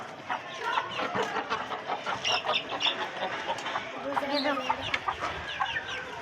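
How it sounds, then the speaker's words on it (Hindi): A pet rooster being taken out, clucking and squawking in short agitated bursts close by, with people talking over and between the calls. "पहले अपना मुर्गा निकाल लो"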